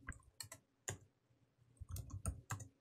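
Fingers tap a terminal command on a computer keyboard in a run of quiet, close, irregular key clicks, with short bursts and brief pauses between strokes, and no voices.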